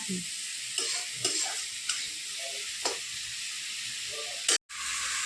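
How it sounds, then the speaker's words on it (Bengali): Whole spices frying in a pan as mustard paste goes in for a fish dish: a steady, close sizzle with a few soft stirring knocks and a brief cutout near the end, no talk. "এখানে সমস্ত মশলাটা ভাজা হয়ে গেল, এবারে সরষে বাটাটা দিয়ে দিচ্ছে"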